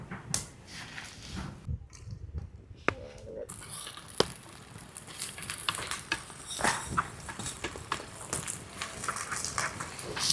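Oil sizzling in a hot pan while ingredients fry for Ankapur country chicken curry, a steady soft crackle with stirring and scraping clatter, fairly quiet and close, someone talking briefly.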